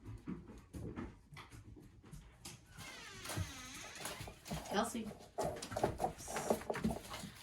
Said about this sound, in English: I have a German Shepherd puppy